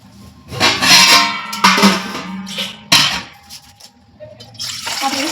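Water from a tap splashes into a metal cooking pot in a home kitchen, several loud gushing bursts with short pauses between them, close to the microphone and not overlaid by talk.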